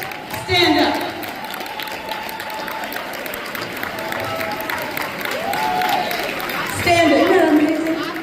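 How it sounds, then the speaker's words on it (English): An audience applauds for breast cancer survivors standing at a public appearance, producing moderate, sustained clapping and crowd murmur with a few voices and cheers, swelling near the start and again toward the end. "Stand up so we can give you a round of applause"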